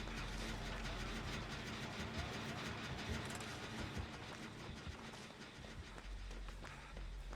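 Killer's engine-like revving in the Dead by Daylight video game, a loud, continuous mechanical roar with rattling texture that holds steady throughout and eases slightly near the end, with no talking.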